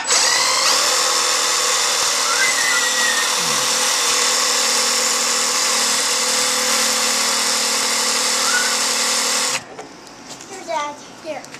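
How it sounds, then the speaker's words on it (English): A power drill whines steadily and loudly at close range for several seconds, grinding against thick steel without getting through, then cuts off abruptly into quieter rustling. "Shouldn't be able to drill into it."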